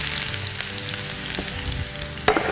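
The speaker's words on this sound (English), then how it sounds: "We're going to add our onions. You're going to hear a little sizzle, I hope." Chopped onions sizzle steadily in a hot pan, a continuous crackling fry with a sharper clatter of stirring near the end; no voices.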